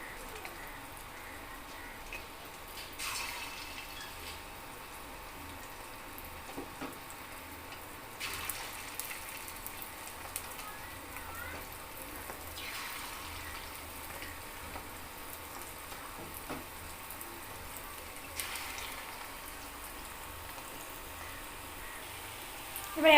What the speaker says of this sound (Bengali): কড়াই তেলটা গরম হয়ে গেছে। এবার আমি একে একে এগুলোকে